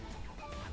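A rooster crows in the Octogeddon video game, a short, faint, slightly muffled call with a rising, sustained tone and no talking over it.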